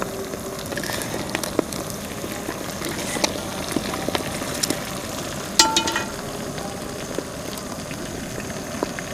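Eggs frying in oil for a spicy egg pepper fry, a steady close crackle and sizzle with scattered pops and a brief louder clatter partway through and no talk.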